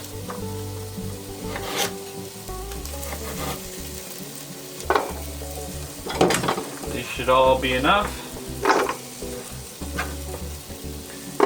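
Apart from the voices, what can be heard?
onions and garlic sizzling in a pan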